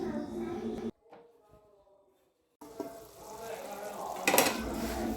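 Okra and mustard curry cooks in a pan on low heat with a soft sizzle and light clinks of a utensil against the pan. A quiet, near-silent stretch interrupts the sizzling before it returns.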